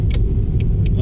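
Car driving along a road in Dubai, a loud, close, steady rumble of engine and tyres with a few faint high clicks on top, no talking.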